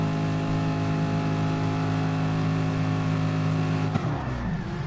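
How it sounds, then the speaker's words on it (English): Race cars in Gran Turismo, lined up at the Red Bull Ring for a race start, hold loud steady revs together before the sound breaks into a surging burst as they accelerate away. "So looking at the start, you see the revs being built up."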